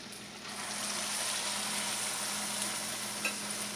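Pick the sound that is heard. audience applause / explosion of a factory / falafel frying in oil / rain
falafel frying in oil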